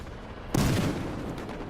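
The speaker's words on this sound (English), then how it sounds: "See one of those explosions?" Battlefield Hardline gameplay explosion: a sudden loud broadband blast that hits at once and rolls off into a sustained rumbling decay, with no voices.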